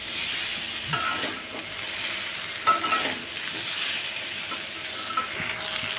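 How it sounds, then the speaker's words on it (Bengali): Taro stolons (kochur loti) being stir-fried in a pan, a steady close sizzle with scraping spatula strokes and a few sharper clinks, with no talking. "তো এটা এখন ভালোভাবে একটু নেড়ে ভাজা ভাজা করে নেব।"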